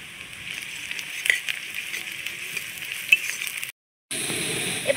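Grated garlic sizzling in hot oil with lightly browned onions while cooking a prawn dish, a steady soft frying hiss with occasional clinks of a utensil against the pan and a brief cut near the end.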